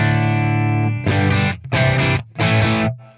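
Distorted electric guitar played through the MVave Tank-G amp modeler, starting with a sustained ringing chord and then moving into three loud, chunky strummed bursts separated by short gaps.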